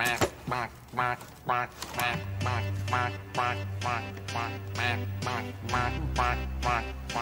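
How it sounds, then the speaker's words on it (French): A duck pulled from a basket quacks in a steady series of nasal calls, riding over a low droning musical bed. "il sort un canard d'un panier qui fait coin-coin"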